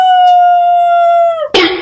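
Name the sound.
dog howling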